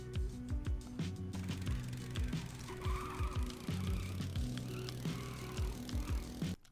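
A go-kart in the video game Bully drives with a buzzing engine drone that rises and falls with the revs. Bumps and tire noises come in repeatedly, and the sound stays close and continuous.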